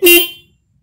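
A single short honk from a single-terminal car horn wired without a relay, loud and close, cutting off quickly into silence.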